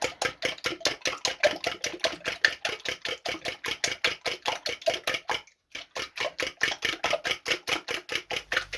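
Apple pancake batter is whisked briskly in a bowl, producing fast, even clicking strokes close up with one short pause midway.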